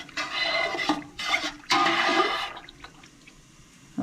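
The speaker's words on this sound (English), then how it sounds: "You hear that noise? That's the sugar on the bottom. And the bubbles are trying to come up through it" A pot of sugary pickling liquid for beets bubbling and gurgling on the stove, a steady, fairly loud rushing burble in a few surges that fades toward the end.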